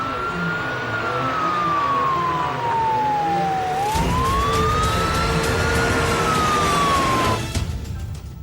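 Police car siren wails loudly close by, a long rising and falling tone that switches into a second sweep midway, with vehicle noise underneath and no speech.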